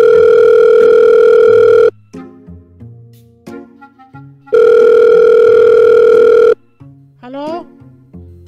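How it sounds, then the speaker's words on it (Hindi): Loud cartoon phone ringing heard over speakerphone, two long steady electronic rings separated by a short gap filled with cartoon music and sound effects, all in an animated comedy setting. "बेल जा रही है।"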